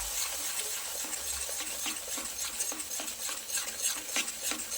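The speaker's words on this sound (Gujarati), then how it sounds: "સરસ મિક્સ કરી લઈશું." Spoon stirring milk cream into a sukhdi mixture in a pan, giving a steady rhythmic scraping with light metallic clinks, close and alone with no talking.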